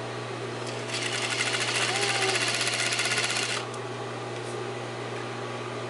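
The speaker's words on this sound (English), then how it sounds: "Now I'm going to stitch down this inner fold, back tacking at the top." A sewing machine stitches down an inner fold of shirt fabric with back tacking, a steady fast mechanical whir that runs for a few seconds and then stops, with faint room hum before and after.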